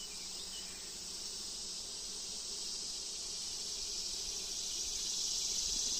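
Honeybees swarm over a hive frame during an inspection, giving a continuous close buzzing hum that holds steady and grows slightly louder toward the end, with no talking.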